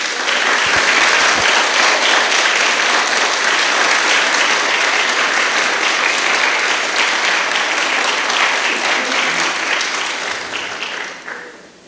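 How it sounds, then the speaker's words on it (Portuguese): A church congregation claps and applauds together in a steady, loud, sustained wave that holds for about ten seconds before tapering off at the end. "Vamos dar um aplauso, uma salva de palmas ao Senhor."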